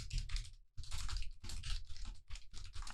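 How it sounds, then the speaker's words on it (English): Quick bursts of typing on a computer keyboard, close and crisp, clattering keystrokes grouped into rapid runs separated by short pauses, with no voice. "You hear me typing?"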